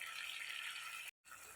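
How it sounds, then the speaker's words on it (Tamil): Water is poured into a blender jar to rinse out ground masala paste, a soft, steady hiss of running water that cuts off abruptly, then resumes more faintly. "தண்ணி சேர்த்து ஜாரை கழுவி போட்டுடலாம்."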